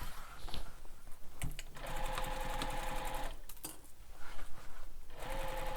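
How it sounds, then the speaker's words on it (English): A sewing machine stitches along the short edge of a backpack pocket, its motor buzzing continuously at close range with a few brief pauses and clicks. "So I'm sewing one edge, one short edge."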